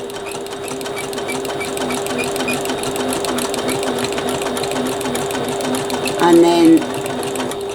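A sewing machine stitches a bag seam, running in a steady, even whir at close range while a person talks over it briefly.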